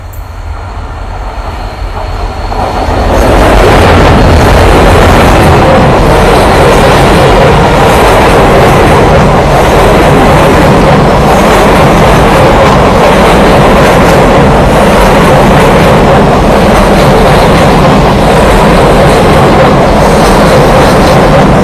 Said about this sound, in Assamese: আমি ৰেলখন যোৱালৈ আমি অপেক্ষা কৰিছোঁ কাৰণ চাওক ৰেলৰ গতিবেগ চাওক এইখন ৰেলৰ গতিবেগ কিমান হ'ব পাৰে